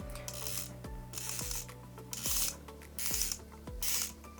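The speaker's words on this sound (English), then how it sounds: "so you can easily hear and feel the clicks even in complete darkness" Turret adjustment clicks on a Schmidt & Bender 10-60x56 riflescope: about five crisp, evenly spaced ratcheting clicks mixed with a soft rubbing sound as the turret turns. The sound is close, quiet and clear, with no talking.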